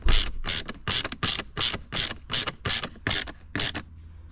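A ratchet wrench tightens armrest bolts inside a GR Corolla, giving nine quick, evenly spaced ratcheting bursts, close and crisp, with no talking.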